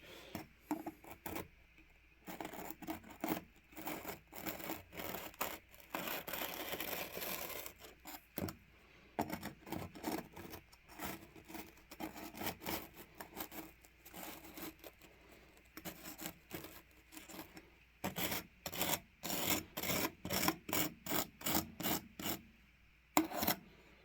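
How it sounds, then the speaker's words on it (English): A handheld scraper rasps across an N scale model railway module under repair, producing repeated short scraping strokes in bursts with brief pauses, close and moderately quiet, no talking. "I'm just going to use this scraper."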